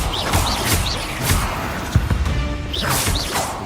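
Bombarda spell explosions in Hogwarts Legacy crash and thud repeatedly, with several sharp impacts and swooshing bursts scattered across the span over continuous combat noise.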